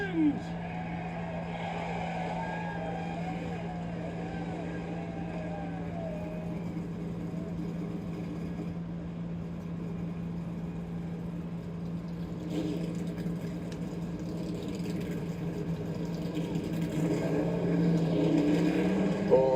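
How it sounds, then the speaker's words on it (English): Race car engines idle and rev together at the start of a Road America race, a steady low drone building louder toward the end, with an announcer talking over it. "We got those engines fired. We're getting ready to go racing."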